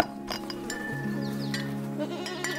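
Goats wander beside a roadside market in Malawi and bleat a few times amid steady outdoor background noise and faint tonal hums, with no talk.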